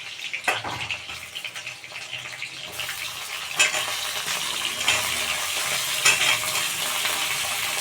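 Steady sizzling of brinjal and onion frying in a hot pan, with occasional stirring scrapes.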